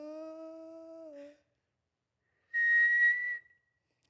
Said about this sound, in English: I can't whistle. That's the only note.